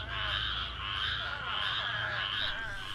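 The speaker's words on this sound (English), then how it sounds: "During mating season, the males call their waaah call to attract females" Male spadefoot toads call during mating season to attract females, a loud, continuous chorus of droning, wavering croaks from several animals close by.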